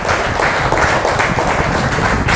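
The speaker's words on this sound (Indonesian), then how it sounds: "Berikan sorak-sorai buat Tuhan." A congregation at a church service cheering and applauding, a steady, loud wash of clapping and shouts that holds throughout.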